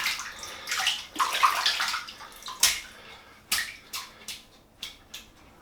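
Water splashing and sloshing into a bowl in a sink, with an uneven stream followed by a series of distinct drips and splashes, close and moderately loud with no talk.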